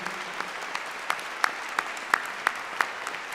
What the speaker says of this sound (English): another round of applause for our 5 Honens finalists